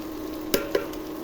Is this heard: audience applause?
no